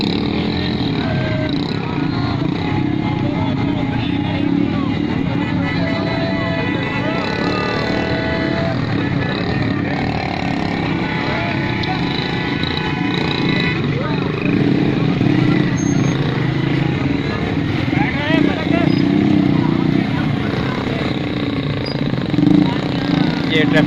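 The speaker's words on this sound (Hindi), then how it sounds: "मोटरसाइकिलों पे लोग भाई आ रहे हैं जी।" Steady loud engine roar of motorcycles and jammed traffic passing on a road in Pakistan, continuous throughout, with voices mixed into the noise.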